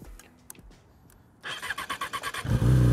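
A motorcycle being loaded into a truck cranks over and fires up, a quiet stretch giving way to a rhythmic chugging start that swells into a loud, steady idle close by.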